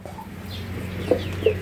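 Small backyard chickens cluck softly in a kept flock, a couple of short clucks popping up over a steady low hum.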